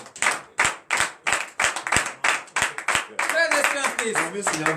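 A morning prayer congregation claps in a strong, regular rhythm, about two sharp claps per second, before the beat dissolves into mixed voices and looser sound.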